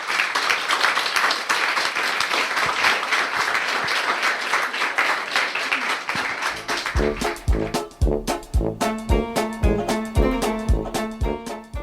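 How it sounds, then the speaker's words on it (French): Warm, dense audience applause for two speakers at a 2023 history festival talk on consumption lasts several seconds, then fades as rhythmic music begins. "très chaleureux soutien et applaudissements pour nos 2"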